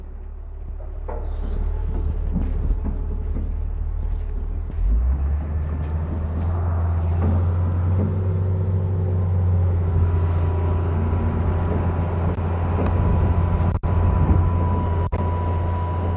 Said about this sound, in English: drives the excavator around the site a little bit